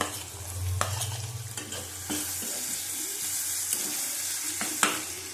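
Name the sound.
chopped garlic frying in oil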